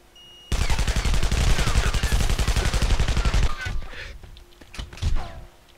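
Rapid automatic gunfire in the video game Sniper Ghost Warrior 2, a dense burst of loud repeated shots lasting about three seconds, then a few scattered heavier shots and thuds.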